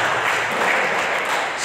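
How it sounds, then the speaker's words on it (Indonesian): A church congregation applauding, heard as a dense, steady wash of many hands clapping at close range, evenly loud and unbroken, with no talk over it. "Tepuk tangan untuk Tuhan kita Yesus Kristus."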